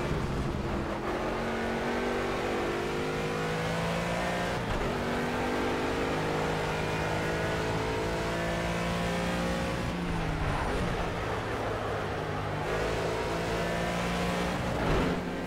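A race car engine in Project CARS revs hard through a qualifying run, its pitch climbing and dropping through repeated gear changes. It sounds loud, close and continuous, with no talk.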